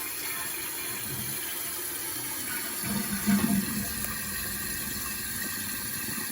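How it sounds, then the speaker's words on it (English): A household toilet flushes and its tank refills with water, giving a steady close-up rush that surges briefly midway, then settles into a continuous filling hiss. "So give it a flush and see if it closes properly without any interference from the chain."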